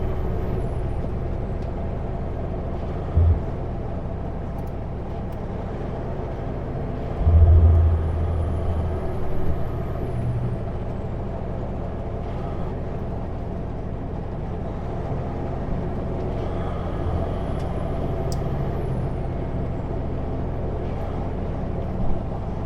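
Truck air brakes hiss briefly near mid-passage while a tractor-trailer slows and pulls over toward a rest area in the Canadian Rockies between Banff and Field, BC, set against a steady cab engine and road rumble.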